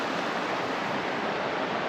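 A river flows past a riverbank in a national park, a continuous loud wash of rushing water with no breaks or other sounds.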